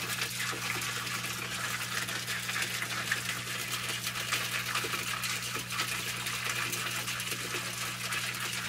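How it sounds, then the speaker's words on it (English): Water running continuously in an aquaponics system, a steady close rush and splatter with a constant low pump hum beneath it, loud throughout and without speech. "Can't hear Nigel because of the water."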